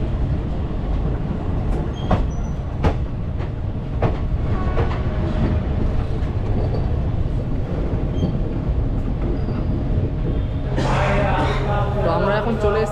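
Indian Railways train 18014 Bokaro–Howrah Express rolling into Adra Junction, with a steady rumble and rattle of wheels on track throughout, a louder metallic squeal and clatter building near the end, and faint voices in the background.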